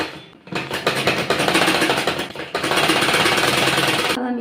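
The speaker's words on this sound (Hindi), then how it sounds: "अब हम इस पर कॉर्नर से सिलाई लगाएंगे, इधर को छोड़ देंगे और यहाँ से सिलाई लगाएंगे यहाँ तक" A sewing machine stitches shirt fabric from the corner, running in two steady close bursts with a brief pause between them and a short stop near the end.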